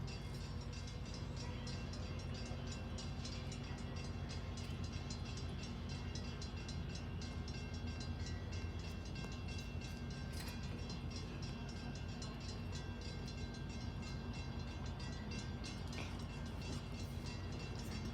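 Train at a station rumbling steadily for the whole stretch, with a continuous low mechanical drone and faint rhythmic clatter at a moderate distance, without voices.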